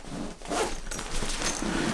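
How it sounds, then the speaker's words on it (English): The zipper on an eBags Professional Weekender bag is pulled closed in a continuous, close, rasping run of zip strokes lasting a couple of seconds. "I can zip this up"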